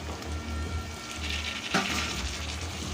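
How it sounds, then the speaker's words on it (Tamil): Shallots and curry leaves sizzle steadily in hot oil for a tempering, a close, continuous frying crackle with no voices. "சின்ன வெங்காயம் போட்டுக்கலாம் சாம்பார் வெங்காயம் இது கூடவே கருவேப்பிலையும் போட்டுக்கலாம் இது அப்படியே தாலி தாளிப்பு ரெடி ஆகட்டும்"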